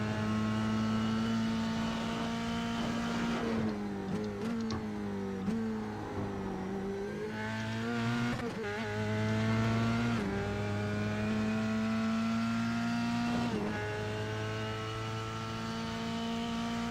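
Formula 3 race car at Oulton Park, its engine loud and close throughout, pitch climbing and dropping through repeated gear shifts and throttle changes as it works through corners, with no talk.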